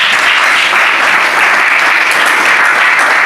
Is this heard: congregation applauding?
yes